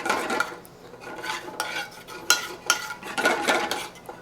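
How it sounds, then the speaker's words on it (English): Butter is being stirred into a warm, gentle sauce with a utensil, giving repeated scraping, clinking strokes against the pan in an uneven rhythm, close and moderately loud, with no talking. "We add some more, and we keep stirring."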